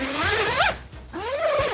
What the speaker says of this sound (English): You just need to undo a zip.